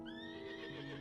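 Horse in the video game Final Fantasy XIV gives a single short, loud neigh close by, with no talk.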